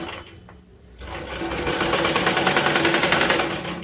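A sewing machine stitches cloth for a jute bag made from old fabric, starting after a quieter second and then running in a steady, rapid rattling hum close by until the end.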